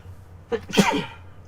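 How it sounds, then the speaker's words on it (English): A single loud sneeze up close, a quick sharp intake of breath followed by the explosive burst. "I'm going to sneeze."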